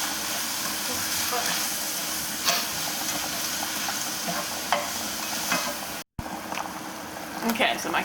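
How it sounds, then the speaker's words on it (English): Onions sweat in a hot pan, giving a steady close sizzle and hiss with occasional soft stirring scrapes and a brief dropout near the end. "sweat these off, get the onion softened, and then we'll start adding the meat"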